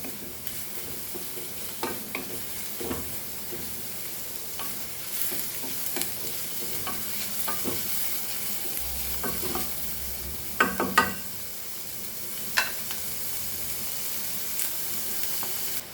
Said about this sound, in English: So let's fry this nicely till our masala is getting grind.